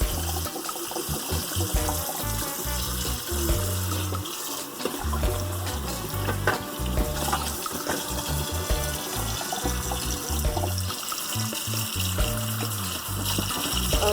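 Cold tap water running over freshly boiled eggs in a pot, a steady loud gush and splash lasting throughout, with no talking.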